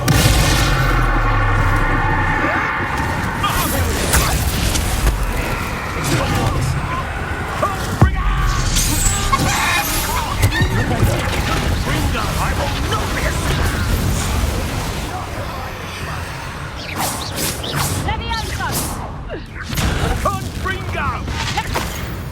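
Spell blasts from Confringo casts in the Hogwarts Legacy video game, a dense barrage of booming bursts and crackling impacts mixed with other spell effects, steady and loud throughout.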